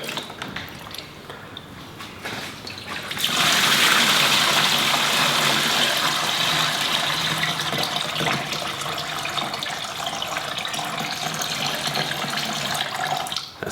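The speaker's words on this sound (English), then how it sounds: "Let's pour it out and try and get this thing dried up." Methylated spirits pour out of a car intercooler in a steady, loud gushing stream that starts abruptly after a quieter moment and splashes continuously close by, with no talk.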